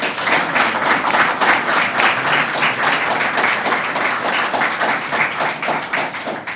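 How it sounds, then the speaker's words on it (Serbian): Sustained applause from an audience at a Belgrade event in the Engineers' House marking International Nikola Tesla Day, steady dense clapping that stays loud throughout without any speech over it. "Veliki aplauz, molim vas."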